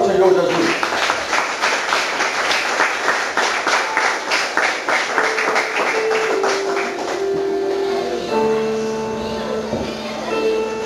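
A church congregation applauding during a sermon, a loud rhythmic burst of many hands clapping in unison that gradually thins out, with a voice speaking over the fading claps.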